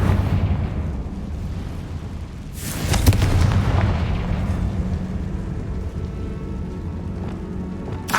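A Confringo blasting curse goes off in Hogwarts Legacy, bursting into a loud explosive boom near the three-second mark, with a rumbling wash that fades slowly under the game's ambient background.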